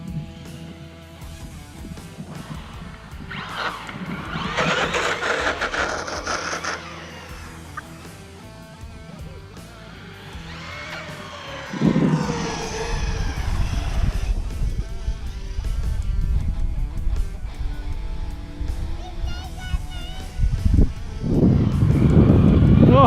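Traxxas Hoss RC truck driving and popping wheelies, its electric motor whining and surging in bursts with rising pitch, tires crunching over dirt, fairly close and loud, outdoors with wind noise.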